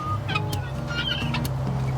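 Chickens clucking close by, a busy run of overlapping clucks and short calls over a steady low background.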